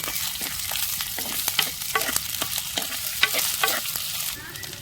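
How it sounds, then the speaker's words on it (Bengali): Ginger garlic paste fries in hot oil in a clay pot, a dense close sizzle broken by frequent crisp scraping strokes of a stirring spoon, steady throughout with no talking. "আদা রসুন বাটা হালকা করে এবার ভেজে নেব"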